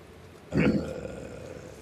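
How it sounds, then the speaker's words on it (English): A person lets out a single loud, throaty burp mid-conversation, swelling up suddenly and then trailing off into a low rumble with faint background noise after. "Why do you sound like you're burping?"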